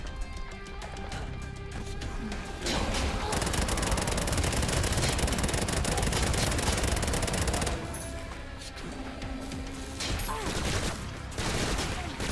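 A maxi gun fires in the action video game Bombshell, making a dense, loud stream of rapid gunfire that runs for several seconds amid other game effects and explosions.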